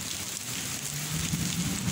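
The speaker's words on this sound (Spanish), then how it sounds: "Tarde de lluvia desde el parque La Glorieta de Calle Barín." Afternoon rain pours steadily in a park in Caibarién, a dense, even patter on surfaces with no voices.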